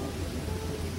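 Heavy rain with thunder, a sound effect heard as dense, loud, continuous rain noise with a low rumble beneath it and no voices.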